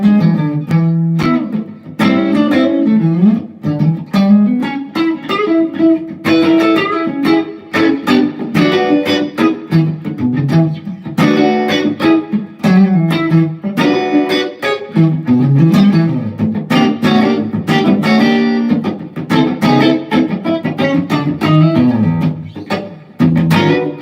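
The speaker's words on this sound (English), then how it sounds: "you've also got a neck split coil sound" Electric guitar on its neck pickup in split-coil mode via a 5-way switch, played as a continuous run of clean, bright chords and single-note lines with quick rhythmic strumming, loud and close, no talking.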